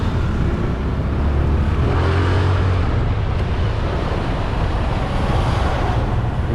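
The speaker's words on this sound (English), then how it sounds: "All this traffic, people turn everywhere." Steady, dense road traffic rumbles along North Pattaya Road in Pattaya, with a continuous wash of passing cars and engines, close and fairly loud, and no voices.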